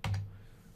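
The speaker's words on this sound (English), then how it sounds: "I'm sitting here typing the whole time." A brief burst of computer keyboard keys tapped close up, a couple of quick clicks with a short fading thump, quiet and alone.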